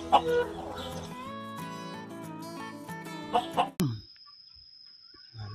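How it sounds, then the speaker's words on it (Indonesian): Chicken clucking in a toy-cleaning setting, with a run of tonal, melodic clucks and calls for nearly four seconds, a sharp click, then near silence with a faint sustained tone. "ini ayam."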